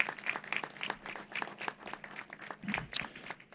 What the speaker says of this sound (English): give a round of applause to John and Margot Katzimatidis